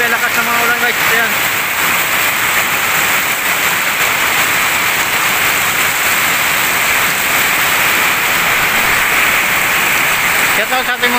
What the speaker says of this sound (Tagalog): Grabe, lakas ng mga ulan guys.